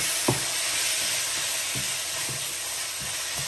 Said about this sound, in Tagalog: Ilagay natin yung chicken. Yan. Fry lang natin ito.